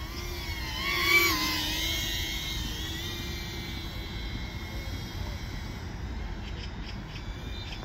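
A small custom Persona25 FPV hoop drone on a low 4.6-volt battery flies outdoors with a steady, fairly quiet motor whine and airy hum that rises briefly near the start, then holds evenly throughout with no talking.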